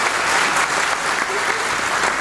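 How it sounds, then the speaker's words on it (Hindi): Sustained audience applause at a community political event honoring Ambedkar, dense and steady clapping from a large crowd throughout, with no speech over it. "अपने लोगों के लिए ताली नहीं बजाओगे किसके लिए बजाओगे?"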